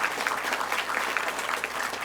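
Audience applause at the grand opening of a college mechatronics lab, a steady dense patter of many hands clapping at moderate distance, sustained evenly throughout.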